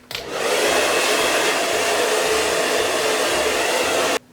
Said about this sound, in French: donc déjà, j'ai pu sécher la racine des cheveux